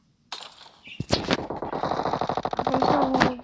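Gunfire in the video game PUBG Mobile arena mode, a single loud shot followed by rapid automatic bursts of close, sharp shots in a fast even rhythm.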